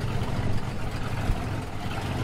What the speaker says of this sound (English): Beautiful exhaust, as you can hear.